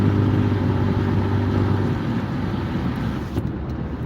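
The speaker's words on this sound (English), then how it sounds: "You can hear this car." Loud, steady roar of a car driving on a highway at about 65 to 75 mph, with engine drone and road noise filling the whole stretch.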